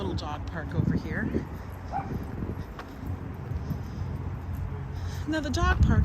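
Dogs bark and yip at a dirt dog run in Riverside Park, New York City, in scattered outbursts amid outdoor park bustle and nearby chatter.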